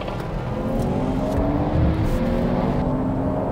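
Mercedes C43 AMG and Audi S5 accelerating from 50 km/h in second gear in a drag race, a loud, steady engine roar building without a break for several seconds, with no talking.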